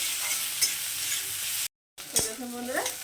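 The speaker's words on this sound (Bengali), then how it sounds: "লম্বা পেঁয়াজগুলোকে তো পেঁয়াজগুলো আমি একটু মানে ভেজে নেব একটু লাল লাল করে ভেজে নেব" Sliced onions sizzle quietly in a pan as they fry, with a short scrape of stirring, a brief gap of silence, and then clattering stirring strokes close by.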